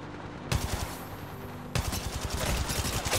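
Automatic gunfire in the Apex Legends Mobile video game, a sustained burst of rapid shots that cuts out briefly and resumes even denser, close and fairly loud, with no talking.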